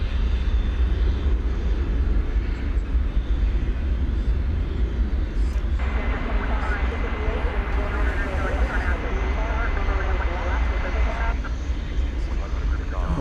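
A FedEx MD-11 arriving at DFW Airport at night, a steady broadband jet roar that swells midway with a brighter whine, heard from a distance with a voice talking over it.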